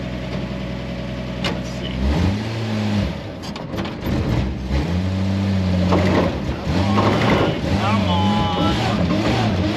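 A 1954 Chevy hot rod engine runs roughly with bad fuel, its pitch sagging and surging as it stumbles and catches several times, loud and close with a voice speaking briefly over it.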